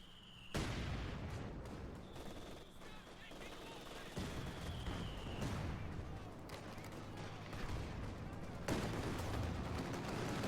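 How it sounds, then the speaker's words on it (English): Aircraft strafing run in Company of Heroes 2: a loud, sustained burst of rapid gunfire and impacts fills the whole stretch, with a sharp renewed surge near the end and a brief faint whine partway through. "Wow, that was an amazing strafe."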